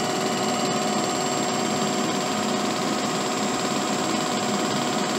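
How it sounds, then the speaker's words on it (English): A facing tool takes a cut on an aluminum forming die in a machine turning at 1,000 RPM with a slow feed, a loud continuous mechanical drone and whine that holds steady throughout. "Here's the facing tool taking a cut."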